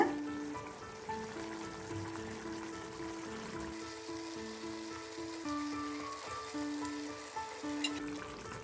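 Halved boiled eggs fry in egg masala with a steady, close sizzle and a few stirring scrapes, while a tonal background hum runs underneath throughout.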